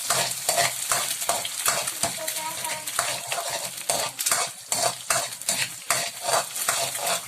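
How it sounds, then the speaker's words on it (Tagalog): Egg being scrambled in a hot pan for chao pan fried rice with canned beef loaf, a utensil scraping and tapping rhythmically against the pan over a continuous sizzle of frying, close and steady. "Unahin natin ang ating egg. Kailangan natin scramble siya."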